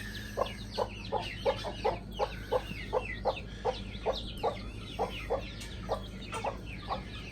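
A barnyard hen with her little chicks makes a steady run of soft, evenly spaced clucks, close by, over a low background of cheeping and faint farmyard noise; no one talks.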